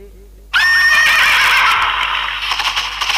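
A horse neighs loudly and close, a long shrill whinny that breaks out suddenly and trails off over about three seconds, with faint hoof clatter and rustling toward the end.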